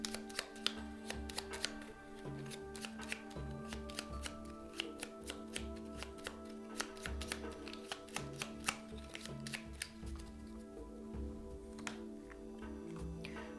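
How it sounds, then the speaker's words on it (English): A deck of cards for the Fallout board game is shuffled at the table, giving repeated crisp riffles and taps over a steady hum of background music. "And of course I need to shuffle my agenda deck."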